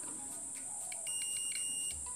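A multimeter continuity buzzer beeps during testing of a Samsung slim 21-inch CRT TV with a blinking fault, several short high tones over a steady electronic whine at the workbench.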